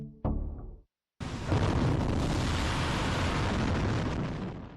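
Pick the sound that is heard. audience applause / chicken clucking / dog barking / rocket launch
rocket launch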